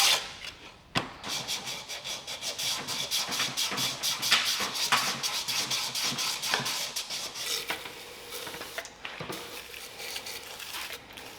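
Scraping and scrubbing inside a corroded Johnson outboard lower unit housing, a close continuous rasping rub with rhythmic strokes, a few sharp knocks, and a quieter stretch near the end.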